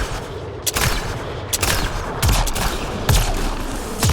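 Rapid gunfire bursts and deep booming explosions from a weapon in the video game Mass Effect Andromeda on an intense alien planet, several loud blasts with low rumbling tails spaced across the stretch, no talking.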